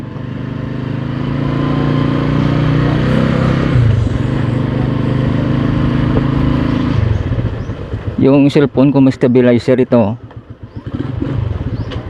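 A Rossi 125 motorcycle rides through Iloilo City with a steady engine drone and wind rush, then quiets as someone talks close to the microphone.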